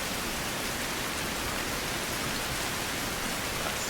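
Steady, dense rain pours throughout the rainy season in Survival: Fountain of Youth, a loud, even hiss with no breaks and no voices.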